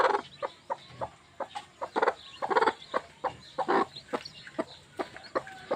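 Chickens cluck and call in a busy backyard flock, with repeated short clucks and squawks in uneven rhythm, fairly close and continuous, without anyone talking.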